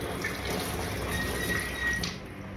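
A fresh coconut being washed under a running tap, with water splashing steadily and faintly into a sink for a couple of seconds.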